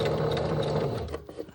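Sewing machine stitching fabric into ruffles, a steady close mechanical whir for over a second that turns choppy and uneven toward the end as the fabric is held back.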